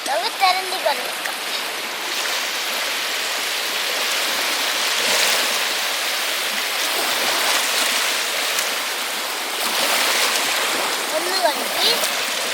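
Running water pours and splashes steadily while a stingray fish is washed outdoors, a broad continuous rush with small splashes, and a voice talks briefly in the background.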